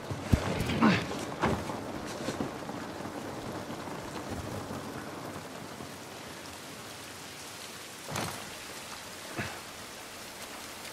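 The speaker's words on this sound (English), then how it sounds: "This rain ain't gonna do us any good." Steady rain falls in The Last of Us Part I video game, a continuous hiss with occasional louder splashes and gusts, heard alone without talk.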